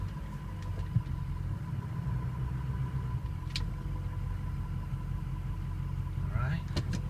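A 2006 Ford F250 diesel 4x4 pickup idles steadily in reverse, its low engine rumble constant and close, with a brief high whine near the end.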